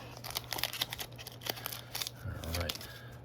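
Scissors snip and crinkle through the foil wrapper of a Disney Princess trading card pack in a series of short, close, crisp cuts, with a voice briefly talking near the end.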